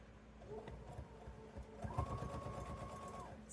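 A sewing machine runs steadily, stitching along the top edge of a fabric tote bag and its binding, with a continuous close whirring hum that rises slightly toward the end.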